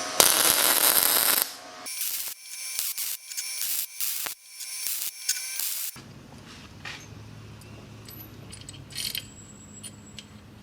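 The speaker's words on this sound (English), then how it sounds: "We're gonna go ahead and weld these together." MIG welding of 1 3/8-inch tubing for a turbo install on a V-Twin 670cc buggy: loud crackling, sputtering bursts of arc in short runs, then quieter intermittent sizzles.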